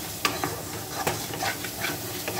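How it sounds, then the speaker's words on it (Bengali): Chili powder and Kashmiri chili powder masala sizzling in a pan for a prawn curry, with a spatula scraping through it in a few sharp strokes over a steady close frying hiss. "মশলাটা একটু কষিয়ে নিই।"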